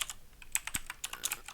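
Computer keyboard keys clack in quick, irregular bursts of close, crisp taps as code is typed, with no talking.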